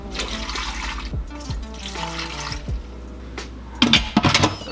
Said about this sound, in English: we're gonna go ahead and add 2 cups of water